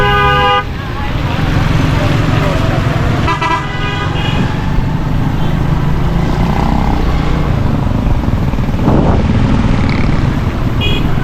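Dense road traffic on a crowded street in Karachi, with steady engine rumble, passing cars and motorcycles, and repeated horn toots close by, while someone talks over the din.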